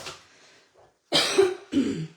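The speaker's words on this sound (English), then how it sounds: "I'm sorry, I'm still coughing." Two sharp, close coughs in quick succession follow a quiet stretch with a faint breath.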